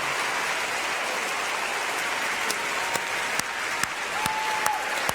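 Warm, sustained applause from a gallery audience honoring artists at an art and social justice event, a dense hissing wash of many clapping hands with occasional sharper nearby claps, steady and moderately loud throughout.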